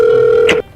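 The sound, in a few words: telephone ringing, phone call in animation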